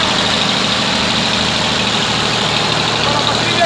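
A Massey Ferguson 240 tractor engine idles with a loud, steady low drone that runs unbroken from start to finish.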